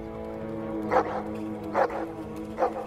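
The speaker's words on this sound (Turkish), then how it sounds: "Abi o ses ne? Ya bizim mahallenin köpeği yok mu ya Boncuk?" A dog barks three times at a steady, spaced rhythm, moderately close, over a low background hum.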